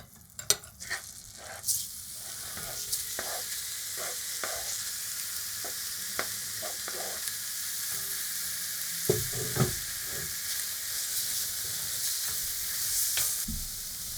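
Butter sizzling in a pot with lean lamb pieces being moved around, giving a steady frying hiss punctuated by scattered clicks and scrapes of a utensil over about fourteen seconds, with no talking.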